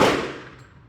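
A single loud gunshot from a Llama MiniMax sub-compact double-stack pistol fired at an outdoor target range, a sharp broadband crack that decays over the next second.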